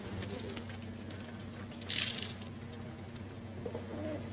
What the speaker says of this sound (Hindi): तो सारे बाहर निकाल दिए कबूतर